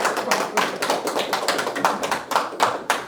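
A few people clap together indoors in a brisk, uneven patter of sharp, close claps, with no talking over them.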